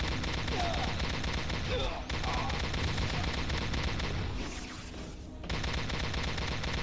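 Rifle gunfire in Star Trek Elite Force 2, a steady, rapid stream of shots sounding continuously with a brief lull near the end, under someone talking.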